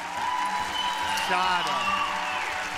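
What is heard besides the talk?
audience applause for Egon on TV show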